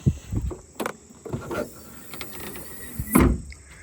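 Hood of a Mitsubishi 3000GT VR4 being popped open, a series of close mechanical clunks and latch clicks, with a louder metallic thunk near the end as the hood releases.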